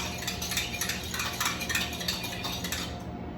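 A whisk or spoon clinks steadily against a bowl as egg is mixed into cream for scone dough, a quick repetitive scraping and tapping rhythm, close and moderately quiet, with no voices.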